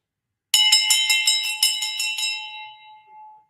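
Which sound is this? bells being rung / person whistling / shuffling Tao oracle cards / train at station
bells being rung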